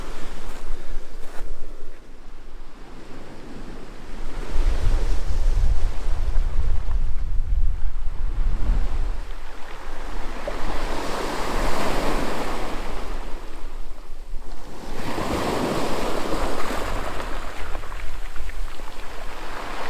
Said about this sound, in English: You're going to crouch down and take footage of the waves.